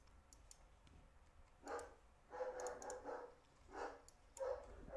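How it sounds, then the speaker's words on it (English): Several dog barks at a distance, scattered in short bursts over a low background hum, with faint ticking in between. "Yeah, I don't know what they're barking at."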